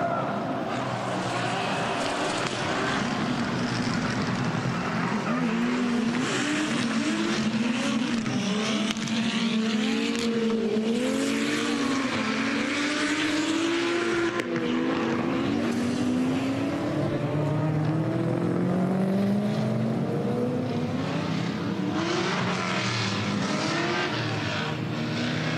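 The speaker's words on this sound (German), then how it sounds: "Da kommen sie wieder, Eli und Joe, lasst was hören!" Drift cars at the Falken Drift Show on the Nürburgring, one running with a nitrous bottle, rev hard and sweep past in a loud, continuous roar with rising and falling engine pitch and bursts of tire squeal, a commentator talking over them.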